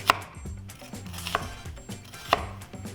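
Knife cutting vertical slits into an onion on a cutting board, a few distinct close chopping taps in an uneven rhythm, with no talk.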